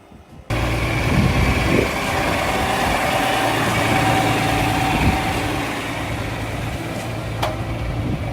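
A heavy diesel telehandler engine idles steadily nearby, a continuous low rumble that starts abruptly and holds without talk.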